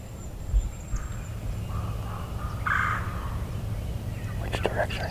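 Wild turkeys on public land, flying in across a river, gobble faintly in the distance over steady outdoor background noise, while hushed voices murmur close by.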